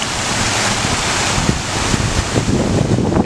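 Water pours continuously from a garden waterfall built of local river rock and quarried bench rock, flowing off three sides in a loud, close, steady rush with no voices.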